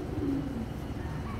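Black checker racing pigeons coo in a loft, a soft, low burbling call close by over a steady background hum, with no talking.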